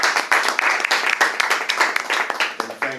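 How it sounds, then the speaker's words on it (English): An audience at a business networking event gives a quick round of applause, loud and close, with a dense rattle of many hands clapping that thins out near the end as a voice comes in. "quick round of applause for Gary"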